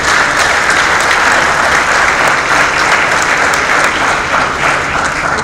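Sustained, loud audience applause fills a graduation ceremony hall in Dubai, a dense, even wash of clapping from many hands that holds steady throughout with no voices on top.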